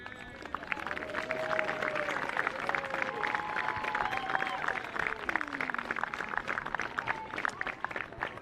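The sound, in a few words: crowd applause for winning football team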